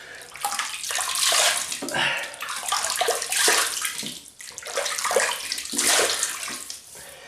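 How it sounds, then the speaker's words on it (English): Water splashing in bursts as someone rinses their face at a sink before a wet shave, several irregular splashy surges close by with no talking. "So I'll just rinse the old face."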